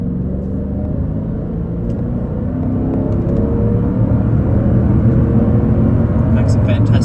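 A 2002 Mercedes CL500 (C215) picks up speed with a steady, loud low engine rumble and drone that builds slightly, carrying throughout with no pauses.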